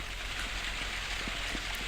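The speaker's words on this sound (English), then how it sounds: "It's raining." Steady rain falls across a video game map, a soft continuous hiss of drops with occasional faint patters, even and moderately quiet throughout with no voices.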